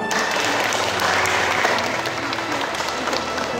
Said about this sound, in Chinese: 我们这个司法会正式开始，请鼓掌